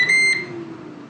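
A Ninja Combi all-in-one multicooker gives one short, high electronic beep as it finishes cooking, clear and close in an otherwise quiet kitchen.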